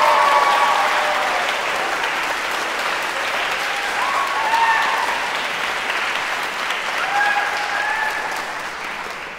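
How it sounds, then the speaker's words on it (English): An audience at a senior piano recital claps steadily for several seconds, dense and close, with a few faint voices underneath. "please give yourselves another round of applause"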